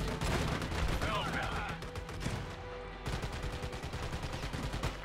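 Gunfire in the video game Army of Two, in a mission on the Lijiang River in China: dense bursts of rapid automatic shots, loud and continuous, with a brief lull partway before the firing resumes.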